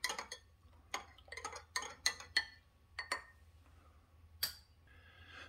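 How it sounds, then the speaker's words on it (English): A spoon clinks against a mug while stirring Starbucks non-dairy creamer, a rich chocolate mocha flavour, into coffee, with a series of sharp, close metallic taps in an irregular rhythm and short quiet gaps between them. "Definitely want to stir these in."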